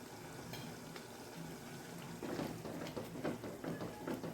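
Onion gravy with crushed gathiya simmers in a pot, a soft, quiet bubbling that grows busier partway through, with steady low popping and no voices.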